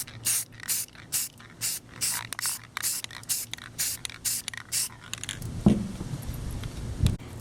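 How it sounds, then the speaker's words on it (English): Aerosol can of trim-clad rust paint sprayed onto a car's rust spot in a dozen short, evenly spaced hissing bursts, close up, followed by a few clunks and handling noises. "You spray it in thin coats"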